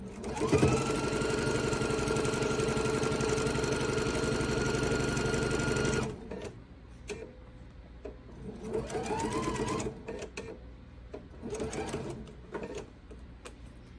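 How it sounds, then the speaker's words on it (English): A sewing machine stitching a quilt seam runs loud and steady for about six seconds, then stops, followed by a few shorter bursts of stitching and scattered handling clicks close by. "I'm just going to finish sewing the rest of the seam"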